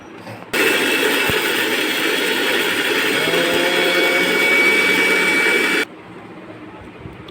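Kitchen blender grinding mustard seeds with coriander leaves and chilli, a loud continuous high-pitched whir running for about five seconds and then cutting off abruptly to near silence.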